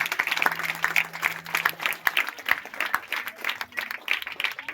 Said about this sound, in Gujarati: તો એકવાર જોરદાર તાળીઓ વાગી જાય આ લોકો માટે.